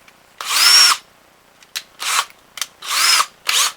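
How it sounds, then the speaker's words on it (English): A small power drill with a 1/16 inch bit whirs in several short bursts, drilling holes for a bow handle, high-pitched and close, with brief pauses between each spin. "we will take our drill and our 1/16 inch bit"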